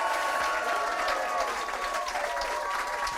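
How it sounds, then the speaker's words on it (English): An audience at a live rugby club show applauds and cheers for invited former players, a steady, full roar of clapping sustained throughout at moderate level. "Would you please give an enormous cheer for Gill, Bourke and Tyrone Howe?"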